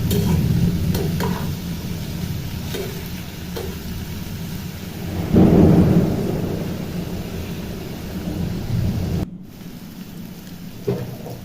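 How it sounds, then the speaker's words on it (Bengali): Chopped vegetables for cauliflower-stalk chorchori frying in oil are stirred with a metal spatula, making a continuous close sizzle with intermittent scrapes and a louder surge midway. "একটু খুন্তির সাহায্যে ভালো করে নেড়ে নেব, যাতে সবজির সবটুকু অংশ তেল পায়।"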